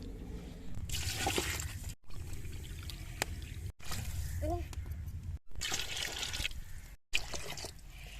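Water is poured into a karahi for village-style aloo rice pulao, a steady splashing pour broken by brief pauses, with someone talking over it.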